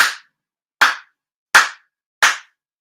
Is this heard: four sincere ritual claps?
yes